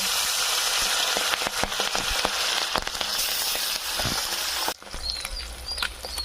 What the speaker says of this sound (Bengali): পাবদা মাছগুলোকে ভালো করে ভেজে দিব।